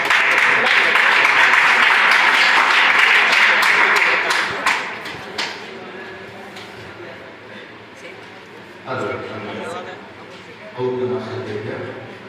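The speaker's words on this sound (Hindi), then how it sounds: "जोरदार तालियों के साथ" Vigorous applause for a Sanskrit teacher fills a seminar hall on a remembrance day, loud and continuous for about five seconds, then fades out. Speech follows over quieter background.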